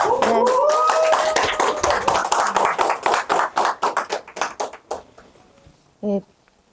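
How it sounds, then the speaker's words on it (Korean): Warm applause at a Korean mayoral candidacy announcement in Gyeongsan, loud clapping mixed with cheering voices that gradually thins into scattered claps and fades, followed by a brief spoken word. "뜨거운 박수 부탁드립니다"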